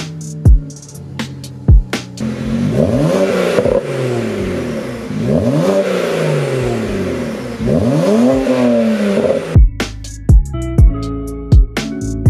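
A BMW 335i engine revs up through several gears while driving, each pull rising in pitch then dropping at the shift, loud and close, with sharp clicks and clatter before and after the run.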